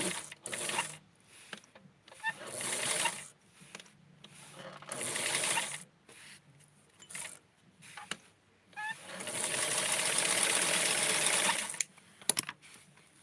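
A sewing machine stitches fabric for Blythe doll clothing, running in short bursts of whirring and clattering with brief pauses between, followed by a longer steady run near the end.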